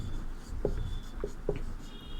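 Chalk or a marker writes a heading on a classroom board, giving a few soft taps and strokes over a low, steady room hum, with no one speaking.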